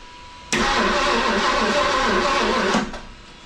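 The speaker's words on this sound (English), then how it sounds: "All right, cranks over, nice and even." Rebuilt V8 of a 1973 Ford LTD barn find cranking over: a sudden loud, even, rhythmic churn from the starter for about two seconds, then a stop.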